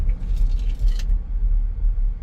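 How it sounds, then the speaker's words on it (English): Loose items shift and rattle briefly inside the center console of a 2017 Infiniti QX80 as it brakes, a short light clatter over the steady low road rumble of the moving SUV. "I got some stuff in the console that was sliding around there."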